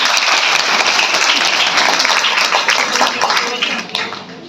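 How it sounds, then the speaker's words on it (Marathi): An audience at a birthday felicitation gathering breaks into loud, sustained applause, thick overlapping claps holding steady for several seconds before thinning out near the end. "एका जोरदार टाळ्या झाल्या"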